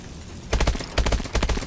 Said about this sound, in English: Shoot through walls and get him.